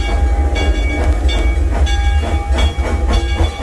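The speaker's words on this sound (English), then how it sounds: "Well, we're on the train ride right now." An amusement park train ride at Six Flags Over Texas rolls along with a loud, continuous low rumble, rhythmic clickety-clack of wheels on rail joints and faint hissing, with no talking.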